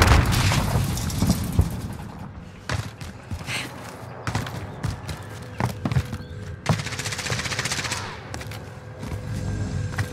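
In a shooter video game, loud booms and cracks of an explosion mix with scattered gunfire and clattering action sounds over about ten seconds of chaotic combat.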